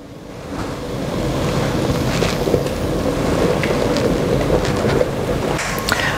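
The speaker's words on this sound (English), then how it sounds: "Water is already boiling." A steady, dense rushing and bubbling of water at a rolling boil in a pot for cooking khinkali, constant throughout with no voices.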